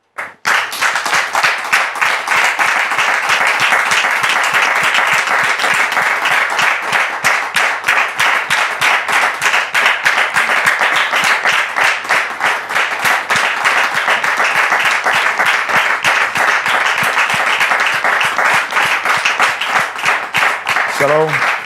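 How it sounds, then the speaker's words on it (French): Studio audience at a French talk show greets arriving guests with sustained, steady applause, a dense, even clapping that runs loud and unbroken for about twenty seconds, with a voice briefly audible at the end. "je voudrais vous demander ici et maintenant de recevoir les invités d'Annick sous vos applaudissements"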